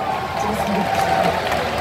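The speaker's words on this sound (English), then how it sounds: "I don't know what they're clapping about" A crowd claps steadily in a large E3 2018 expo hall, with a dense wash of applause mixed with murmuring voices.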